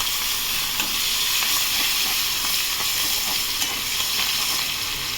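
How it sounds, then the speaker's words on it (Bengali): Sliced onion frying in oil left over from frying fish, a loud, steady, hissing sizzle heard close up the whole time, broken by faint stirring scrapes. "সেই পেঁয়াজটা ছেড়ে দিলাম এই তেলে"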